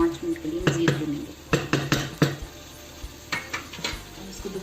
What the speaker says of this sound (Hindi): एक बार फिर इसको हिला के अच्छा सा इसको फिर कवर कर देना है